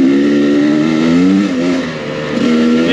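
A 2023 Husqvarna TE300i dirt bike engine drones loudly and close up while being ridden, its pitch rising and falling as the throttle is worked, with no voices over it.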